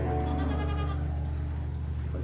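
A goat bleats over a continuous low rumble, a wavering nasal cry in the first second fading into farm background noise.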